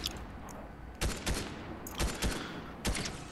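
Gunfire in the Fortnite video game: four sharp bursts of shots spaced about a second apart, loud and close, over a steady low background hum.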